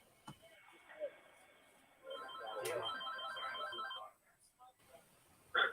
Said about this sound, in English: Somebody got the work phone going off over there.